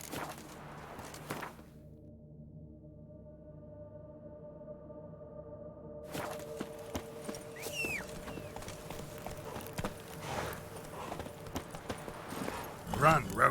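Roach, a horse in The Witcher 3: Blood and Wine, hooves clip-clopping at a steady running pace over sustained game music, with the rhythm growing busier and louder toward the end.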